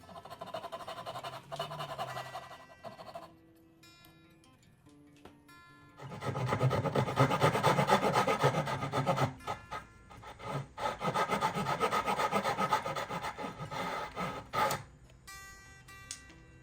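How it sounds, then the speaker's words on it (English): Japanese dozuki hand saw cutting dovetails in wood for a serving tray, rasping back-and-forth strokes close up, a few short passes, then a longer steady burst of sawing with brief pauses. "Look how clean that is from that Dozoki saw."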